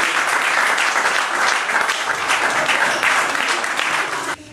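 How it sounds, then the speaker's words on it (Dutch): Loud, dense audience applause at a Dutch video club event fills the whole stretch steadily, then drops off abruptly at the very end. "Geef ze even een dadelijk applaus."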